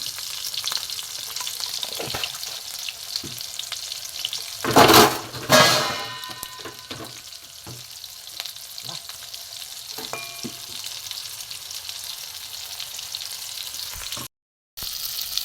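Chopped tomatoes and ground spices sizzle in a pan for a pumpkin kofta curry, a steady frying hiss with stirring and a couple of louder bursts as ingredients go in.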